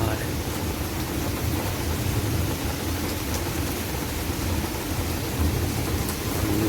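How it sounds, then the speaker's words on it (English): Light to medium rain falls during a severe thunderstorm, a dense, steady broadband hiss with low rumbling underneath, continuous and fairly loud throughout. "Got some light rain, light to medium rain, but it sounds like a war zone."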